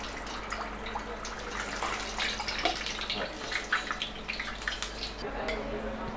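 Giant donut frying in hot oil on a hot coil, giving a steady close sizzle and bubbling crackle with occasional louder pops, continuous throughout.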